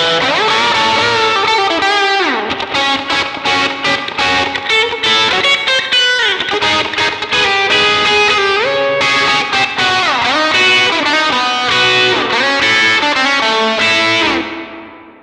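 An electric guitar, a Fender American Vintage '62 Custom Telecaster through a Zoom MS-50G, plays a solo line drenched in springy reverb, notes ringing and bending with a wet, splashy tail, loud and alone.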